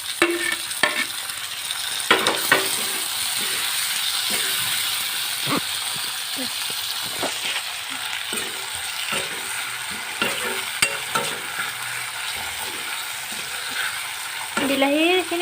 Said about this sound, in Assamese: বিলাহীখিনি তেল নেৰালৈকে ধুনীয়াকৈ ভাজিব